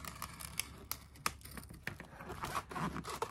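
Scissors cut paper for a collage, faint and close, with a run of small snips and crisp crunching clicks spread irregularly over a few seconds.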